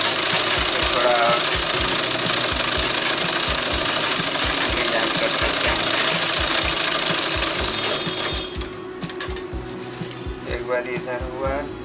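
Sewing machine stitching a Kalidar salwar, a fast steady mechanical clatter of the needle running close and loud for about eight seconds before easing off, with a voice talking near the end.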